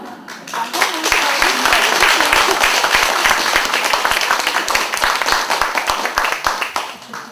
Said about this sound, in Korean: 박수를 너무 크게 치시면 이제 노래 소리가 안 들리니까